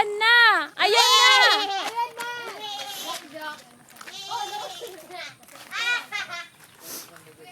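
A goat bleats repeatedly, loud and near, with quavering calls in bursts amid children's voices and lively chatter during a town fiesta eve.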